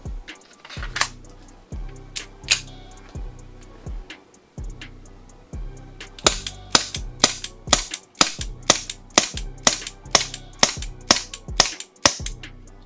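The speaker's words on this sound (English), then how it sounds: "On one gas fill, I've emptied 2 mags of BBs, and as you saw, the slide has locked back." An Umarex VFC Walther PPK/S gas blowback airsoft pistol firing BBs, with sharp snapping shots, a few spaced single shots early and then a quicker steady string of about a dozen, close and loud with no talking.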